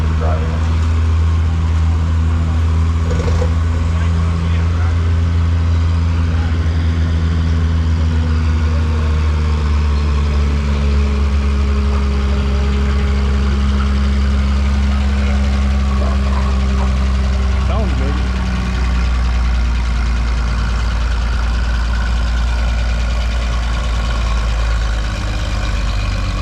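A Minneapolis Moline UDLX tractor engine drones loud and steady while pulling a sled, its deep low rumble holding throughout, with faint voices beneath.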